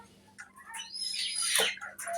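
Birds calling at a small hobby farm kept with pigeons and chickens: a few faint, scattered chirps and squawks, rising to one brighter call near the middle against a quiet background.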